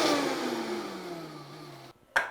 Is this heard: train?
no